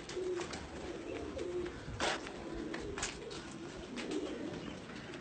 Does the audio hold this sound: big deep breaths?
no